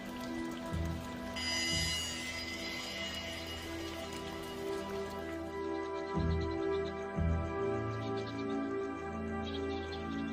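Rain falls on a flying fox camp in a steady, dense patter, while high chirps and calls from the animals break through now and then.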